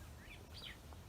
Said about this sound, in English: can probably hear, the birds are really nice